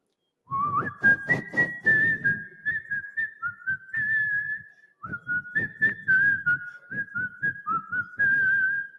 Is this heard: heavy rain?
no